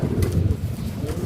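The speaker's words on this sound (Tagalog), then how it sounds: "Magdadapo na mga kalapatids" Racing pigeons coo softly over low wind noise, a brief close murmur of bird calls with faint fluttering.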